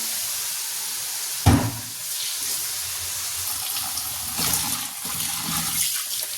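Fenugreek leaves washed under running tap water, with a steady rushing flow, one sharp splash near the start and later swishing as the leaves are moved, close by and without speech.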